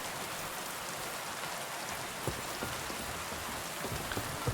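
Torrential rain falls in Kingdom Come Deliverance 2, a thick unbroken hiss with individual drops and small thumps popping out near the end.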